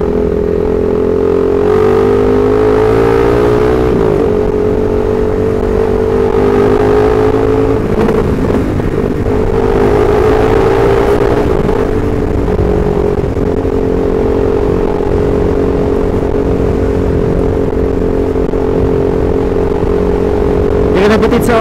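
CFMoto 300SR sport motorcycle ridden on the road: a loud, close, sustained engine hum that climbs and settles through gear changes, with steady wind noise underneath.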